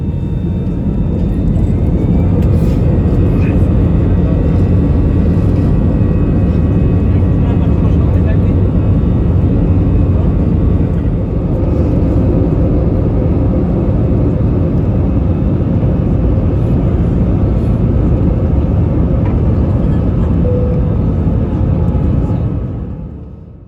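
Heston Airlines airliner on the runway at night for takeoff, heard from inside the cabin: a loud, steady, broadband engine roar that holds evenly throughout before cutting off.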